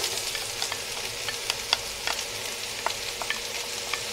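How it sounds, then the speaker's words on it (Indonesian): Chopped onions sautéing in olive oil in a pan for ratatouille, a steady crackling sizzle with light scrapes and pops from stirring, fairly close and alone without talk. "Kemudian marilah kita masukkan bawang besar kita."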